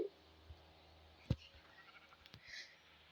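A Minecraft sheep gives a faint bleat amid quiet game ambience, with a couple of soft thumps and clicks from play, distant and low in level.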